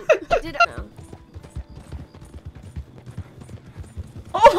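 Galloping horse hooves in Red Dead Redemption Online beat out a quick, rhythmic clip-clop at moderate loudness, with people talking briefly at the start and end.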